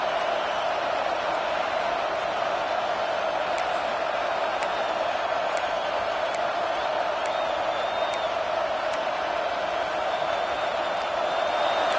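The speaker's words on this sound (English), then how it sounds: "Listen to this crowd just shaking the girders of this place, trying to help their defense." Stadium crowd roaring steadily at a college football game between Arkansas and Houston, a dense sustained din rising as fans try to help their defense, with no break for the full stretch.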